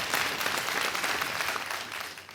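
An audience claps together in a room during a live panel discussion, a steady dense wash of applause that holds strong, then fades slightly toward the end.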